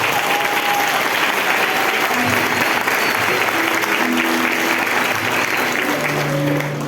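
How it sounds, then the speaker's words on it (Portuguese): A church congregation at an evening worship service applauds steadily and loudly throughout, a dense unbroken wash of clapping with faint tonal sounds and murmuring beneath. "Vamos aplaudir o nome do Senhor aqui."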